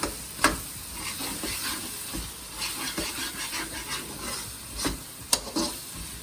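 A spice mix with curry leaves (karapincha) is stirred in a hot pan, giving a steady close sizzle broken by scraping strokes and a few sharper utensil clicks. No voices.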